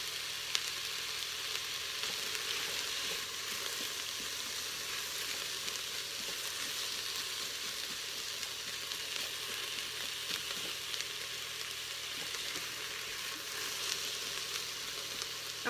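Onions sauteing in a pot for a spicy Italian stew, giving a steady, even sizzle and crackle that runs without a break, close and moderately loud, with no voices.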